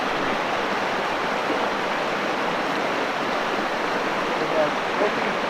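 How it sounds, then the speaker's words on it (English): A flowing river heard from a hiking trail, a steady, broadband rush of water that stays even and fairly close throughout, with no talking. "Get a good shot of the river here."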